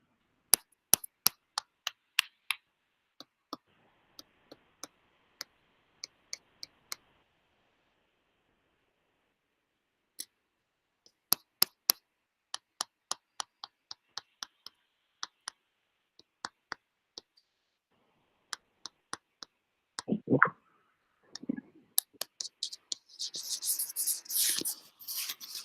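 Key clicks on a computer keyboard while code is typed, heard as sparse, crisp taps in irregular runs separated by pauses, followed near the end by a brief rustle and noisier clatter.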